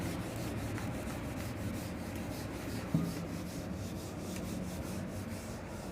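Chalk or marker writing being rubbed off a lecture board with an eraser gives a steady, soft scrubbing texture throughout, broken by one brief knock near the middle, with no talk.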